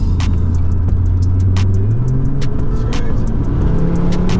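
Audi RS3 8P stage 2 tuned engine pulling hard under acceleration in manual mode, a loud continuous rumble rising in pitch through the gear, with sharp ticking transients over the top and no talk.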